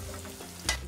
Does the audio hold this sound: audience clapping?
no